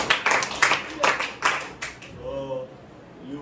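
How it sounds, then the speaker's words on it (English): A few people clap in quick bursts for about two seconds during a computer lesson, the claps close and uneven, followed by a quiet voice speaking. "Okay, clap for it."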